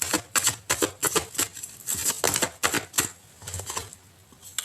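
Tarot cards shuffled and drawn from the deck: a close run of crisp flicks, snaps and riffling slaps in quick irregular bursts, with no voices.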